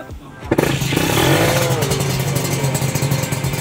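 A two-stroke motorcycle at a Batam two-stroke enthusiasts' meet starts with a sharp catch, then idles and revs loudly and continuously nearby with a crackling, buzzy exhaust rattle.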